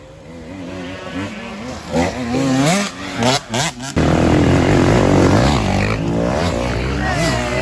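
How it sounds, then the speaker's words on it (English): Honda CR125 two-stroke dirt bike racing on a motocross track among 150cc riders, its engine loud and close with rising and falling revs, brief throttle chops, then a steady high-pitched wail as it passes. "Nick McCabe on his CR 125"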